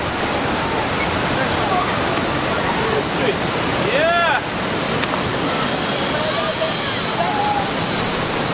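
A powerful waterfall at YS Falls roars as a continuous broad rush of water, with a brief whoop from a voice and faint shouts over the torrent.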